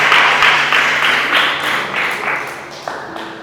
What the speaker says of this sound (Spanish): Démosle ese aplauso a Jesús.